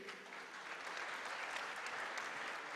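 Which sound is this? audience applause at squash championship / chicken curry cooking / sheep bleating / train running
audience applause at squash championship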